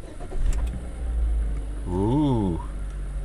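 Ravon R2, also sold as the Chevrolet Spark M300, starting up: a short crank and catch followed by a low, steady idle rumble, with a brief rising voice-like tone over it.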